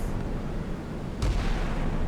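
Naval gunfire striking a small PT-6 boat in the naval combat game Sea Power, a single heavy boom partway through over a constant rumbling engine and sea background.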